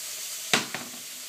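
Zucchini sizzle steadily in olive oil in a pan for ratatouille, a close, constant hiss broken by two sharp clatters in quick succession as pieces are tipped or stirred in.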